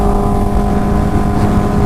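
A stretched Kawasaki Ninja H2 motorcycle pulls hard in second gear, its engine roaring loud and close with a steady, sustained high-revving drone and no voices over it.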